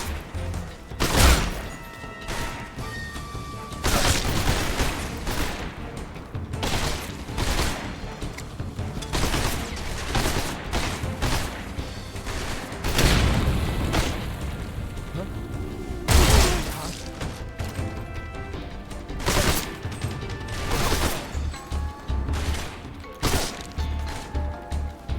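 Dense gunfire from the video game Metal Gear Solid 3, with repeated loud shots and crashing impacts through a busy mix of game sounds, while a voice talks intermittently.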